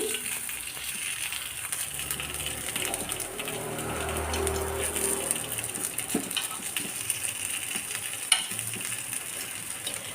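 Rava paniyaram frying in a little oil in a paniyaram pan, a steady soft sizzle with occasional clicks and taps as the pieces are turned, fairly quiet and close.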